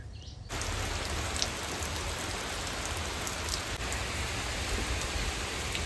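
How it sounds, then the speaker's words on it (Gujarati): Heavy rain pours down steadily, a dense, continuous hiss of drops hitting surfaces nearby, with no voices. "વરસાદ છે ને જોરદાર ચાલુ થઈ ગયો"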